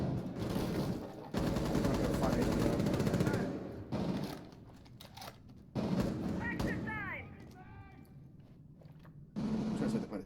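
Rapid gunfire from pre-firing in the Rainbow Six Siege video game during a competitive esports match, loud bursts that come and go, with short breaks and a commentator talking over them.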